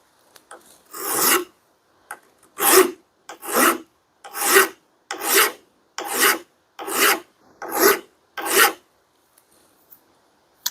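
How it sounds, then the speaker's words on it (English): A hand file working the grinds of an axe head during an axe hang: eight loud, even rasping strokes at a steady rhythm, close up, with short pauses between and no talk. "I'm going to go ahead and clean these grinds up and take a file and just start"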